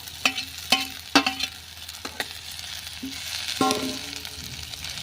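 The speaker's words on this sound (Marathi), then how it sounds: "थोडीशी आता तेलावरती आपण चांगली परतून घेऊया" Corn kernels fry in oil after onions in a pan on a village wood-fired stove, with soft sizzling and sharp scraping and stirring clicks from a spatula at an uneven rhythm.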